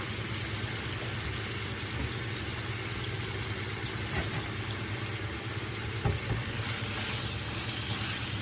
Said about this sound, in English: I want to make sure that I get them browned on all sides